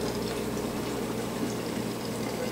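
Hot boiled water pours steadily into a container for washing and lanolizing wool diaper covers, a continuous close gushing and splashing that stays level throughout, with no talk.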